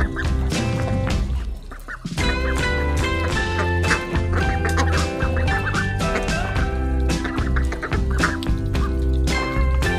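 Dense, continuous duck-like quacking from a group of birds, loud and close, filling the whole stretch with overlapping calls and no pauses.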